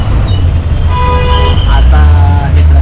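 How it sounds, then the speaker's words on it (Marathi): Road traffic in Pune heard from inside a state transport bus, engines rumbling steadily with several close horn toots, someone talking over it. "पुण्याला ट्रॅफिक बघू शकते."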